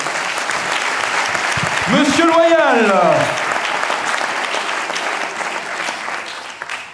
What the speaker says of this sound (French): Vous pouvez l'applaudir quand même, il joue le jeu.